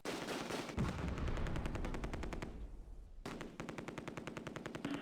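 Heavy gunfire in the Close Combat: A Bridge Too Far war game, with dense, continuous machine-gun bursts and rapid overlapping shots that ease briefly, then resume in steady rattling volleys.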